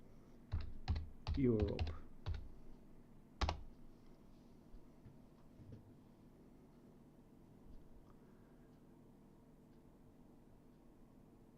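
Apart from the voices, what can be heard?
typing on a computer keyboard into the console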